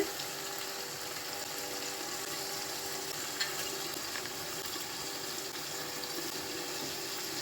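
An egg poach sizzles in a pan for a potato and egg dish, giving a steady, dense hiss that runs unbroken from start to finish, close and fairly quiet.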